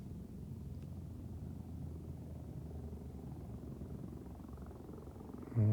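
An Airbus H125 helicopter in Microsoft Flight Simulator 2024 descends in autorotation with a steady low rotor drone and rumble, a faint rising whine building late before a sudden louder burst at the very end.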